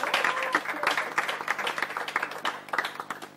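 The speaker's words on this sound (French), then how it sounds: "applaudissements pour les Strikers" A small group applauds for a team named the Strikers, claps ringing out sharp and close, starting dense and thinning into scattered individual claps toward the end.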